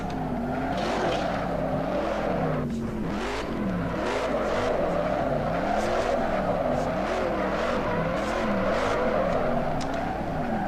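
A Dodge Charger drifting in the racing game Assetto Corsa, its engine droning and revving steadily with wavering pitch while tires squeal throughout, loud and continuous.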